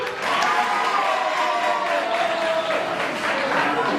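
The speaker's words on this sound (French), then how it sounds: "Donc applaudissez un peu." Applause from an audience at a town hall open day at a school in Adjamé, a broadband wash of clapping filling the whole stretch with crowd murmur mixed in and a faint tonal voice or whistle line running underneath.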